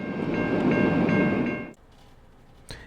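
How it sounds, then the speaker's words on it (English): CN freight train CNL 544, led by a pair of IC locomotives, rumbles past loudly with a repeated horn sounding in short blasts, then the noise drops away abruptly to quiet background. "CNL 544 makes its way out of Centralia Yard this afternoon, headed towards East St. Louis, Illinois."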